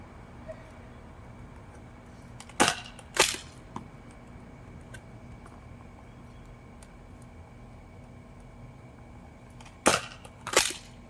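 A Nerf shotgun blaster fires foam darts in two pairs of sharp, close pops, each pair a quick double shot, with quiet handling noise in the long gaps between.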